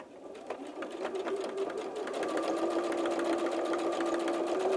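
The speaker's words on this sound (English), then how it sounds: "I'm going to take this over to the sewing machine and I'm going to sew that top edge of the pouch" A sewing machine stitches the top edge of a fabric coin purse, a fast, even mechanical chatter close by that starts softer and settles into a steady, continuous run.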